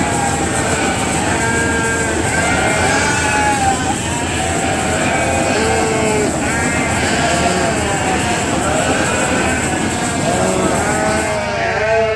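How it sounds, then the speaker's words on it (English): Many lambs at a creep feeder on a sheep farm bleat loudly and continuously, overlapping calls close by with a steady background hum. "The lambs are at a creep feed, so Arnie's gonna fill up their tank"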